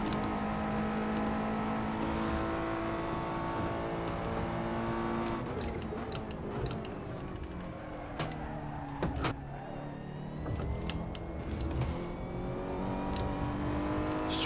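Race car engine in a racing video game, its pitch climbing and dropping through hesitant throttle changes in fourth gear, with sharp clicks and brief bursts partway through.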